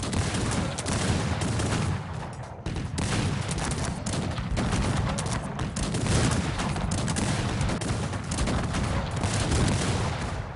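Cannon fire in a Cossacks 3 battle, dense rolling booms and crackling volleys blending into a continuous loud barrage with no clear gaps.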